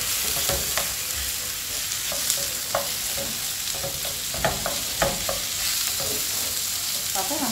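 Kefta meatballs fry in a pan with a steady sizzle, broken by scattered clinks and scrapes of stirring as the mixture is moved around. The cooking is close and moderately loud, with no voices.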